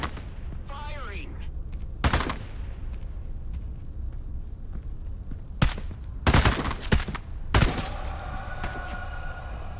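Gunfire in the Into the Radius 2 VR game, Ghost Town setting: several sharp, loud bursts of shots, some close together, over a steady low rumble, with a brief voice-like chirp near the start.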